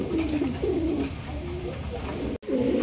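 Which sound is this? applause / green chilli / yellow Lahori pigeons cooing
yellow Lahori pigeons cooing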